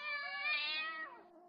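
A single drawn-out cat meow in an animated comedy scene, loud and close, rising then falling in pitch over about a second and a half, with no talk over it.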